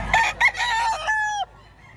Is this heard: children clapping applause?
no